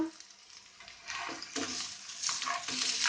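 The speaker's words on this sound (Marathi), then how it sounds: "एक सायडीन भाजल्यानंतर अशी आमकां परतून घेवपाक जाय।" Kingfish slices coated in semolina sizzle in a pan over a medium flame, the frying hiss rising in bursts as the pieces are turned over with a scraping stir, close and fairly quiet with no talk.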